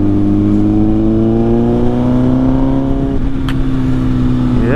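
A Honda Fireblade motorcycle engine, loud and close, holds a steady drone that climbs smoothly in pitch as it revs, with a brief dip and recovery near the end and no talking.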